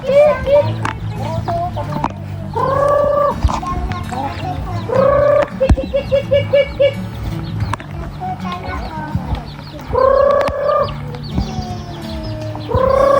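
Chickens gathering on a farm, with repeated clucking and squawking bursts from a flock close by, mixed with someone talking throughout.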